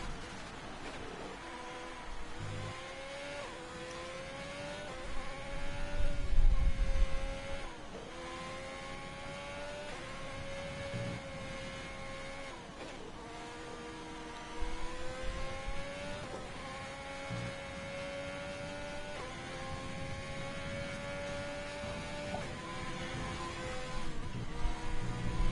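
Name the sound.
sim racing car engine revving, onboard view, from a video game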